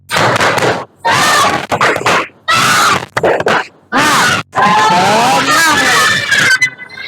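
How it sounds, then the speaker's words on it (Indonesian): A classroom group performs an Indonesian rhythmic spirit clap and cheer, bursts of loud clapping and shouted chant in short blocks separated by brief pauses, with voices calling out through the sequence. "kita berikan tepuk semangat dulu. Tepuk semangat."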